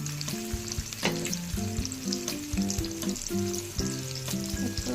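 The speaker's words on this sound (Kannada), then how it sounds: "ಅದು ಗೋಲ್ಡನ್ ಕಲರ್ ಆಗೋದಂತ ಚೆನ್ನಾಗಿ ಫ್ರೈ ಮಾಡ್ಕೊಳ್ಳಿ" Onions sizzle in a pan as they fry toward golden brown, a dense close crackle broken by sharp metallic clinks and scraping stirs at irregular moments, no speech over it.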